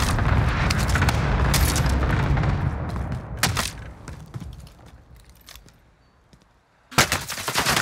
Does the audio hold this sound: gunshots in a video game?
yes